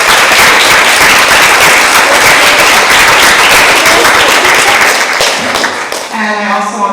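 Loud, dense applause from a meeting audience fills the room steadily, then thins out toward the end as the clapping fades.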